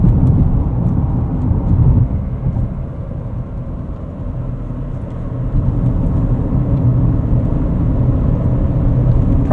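A 2026 GMC Terrain AT4 on all-terrain tires takes a corner, with a steady, loud low road and engine rumble from inside the cabin and only slight swells over the whole stretch.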